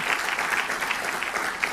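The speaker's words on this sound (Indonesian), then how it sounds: "Tepuk tangan buat Tuhan." A church congregation applauds during a sermon, a close, dense and even roar of many clapping hands that fills the short moment without a break.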